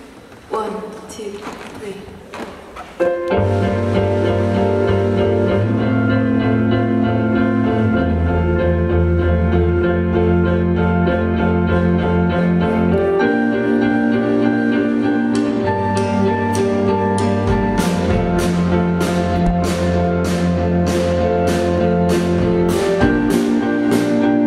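A band plays a song live in concert in Philadelphia, a loud, full band sound with sustained tones and rhythmic percussion that starts after a quieter intro and keeps going to the end.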